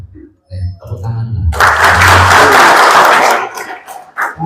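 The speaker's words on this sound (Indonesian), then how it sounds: "Tepuk tangan" Loud applause from an audience at a financial inclusion outreach meeting for fertilizer kiosk owners in Banyuwangi, a dense burst of clapping lasting a couple of seconds, preceded by someone speaking and fading as his voice returns.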